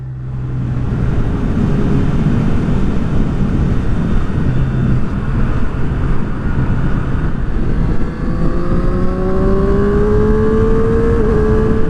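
A Triumph Street Triple R motorcycle cruises on a freeway, a steady loud engine drone mixed with heavy wind rush, with rising engine tones near the end as it accelerates.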